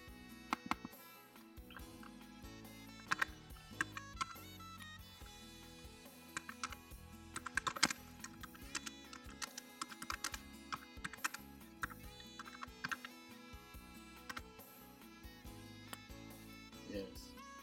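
Someone types on a computer keyboard in scattered quiet bursts of clicks, close but faint, over a low background hum.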